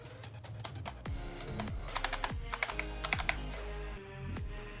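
Typing on a computer keyboard while setting up a development environment: a close burst of quick clicking keystrokes with a few heavier key thumps, steady and alone, no voice.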